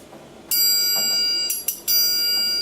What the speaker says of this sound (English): A lot of what that sound is imitating is the triangle.